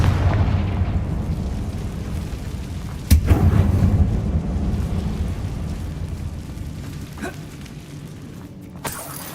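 A Confringo fire spell explodes in the video game Hogwarts Legacy inside a mine: a loud, sustained booming rumble with a sharp blast partway through and a couple of later pops as the roar slowly fades.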